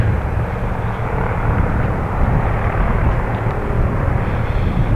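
A fixed-wing airplane comes in to land near a small airfield, its engine a steady, broad roar that builds slightly over several seconds, heard without any talking.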